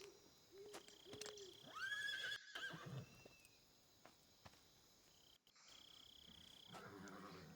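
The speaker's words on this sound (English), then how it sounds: "I hear a horse." A horse whinnies once, fairly clearly, in Metal Gear Solid 3: Snake Eater, over a quiet outdoor ambience with chirping insects and faint hoof clops.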